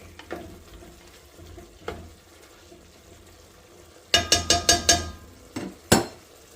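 About four cloves of minced garlic hit a hot pot for lamb stew, giving a faint low sizzle followed by a quick run of spoon clinks and scrapes against the pot near the end.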